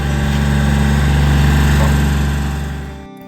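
A tractor engine drones loudly and steadily while pulling up pipe fence posts on a farm, then the sound fades and cuts off near the end.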